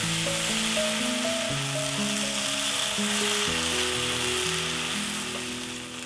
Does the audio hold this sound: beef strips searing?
yes